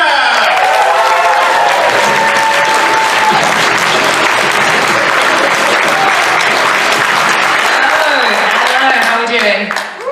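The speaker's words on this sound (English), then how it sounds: "give a big round of applause" Big convention crowd at an opening ceremony breaks into loud sustained applause and cheering that fills the hall, with voices mixed in, fading near the end.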